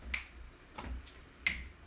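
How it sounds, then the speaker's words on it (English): Two crisp finger snaps about a second and a half apart, close and clear over a quiet background during a balance exercise class. "Step back and snap."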